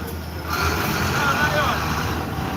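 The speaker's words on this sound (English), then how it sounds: "The truck passing" A truck rolls past on a street, its engine swelling in the middle and easing off again, a broad road rumble lasting a couple of seconds with no talking over it.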